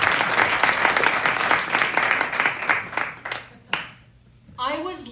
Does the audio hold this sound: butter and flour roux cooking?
no